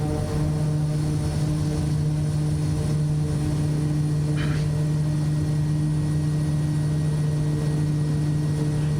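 The engine and propeller of a Kodiak 100 aircraft run at takeoff power: a steady, loud, droning roar with a strong tonal hum, unbroken throughout.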